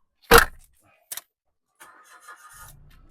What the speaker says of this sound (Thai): เครื่องนิ่งๆสตาร์ททางเดียวติดนะครับผม